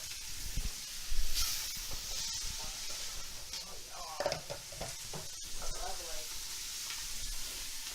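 Holy Trinity vegetables hit a pan of dark gumbo roux with a steady low sizzle, broken by scraping stirs and a few clattering bumps, and voices chatter faintly underneath.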